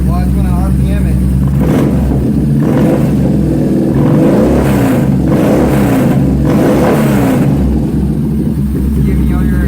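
A 2017 Yamaha SCR950 motorcycle engine fitted with a Power Commander, idling with a low throb and then revving up in several rising bursts, loud and close.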